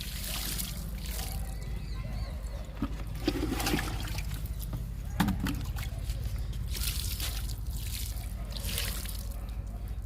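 Water from a bucket pours steadily into garden grow bags, giving a continuous splashing rush with slight surges and a brief trickle in the middle.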